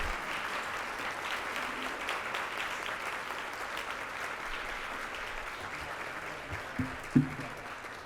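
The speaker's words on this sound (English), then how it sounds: "A round of applause for our amazing panelists." An audience at a public art panel discussion applauds the panelists, a moderate, fairly distant wash of clapping that holds steady, with a couple of sharper knocks or thumps near the end.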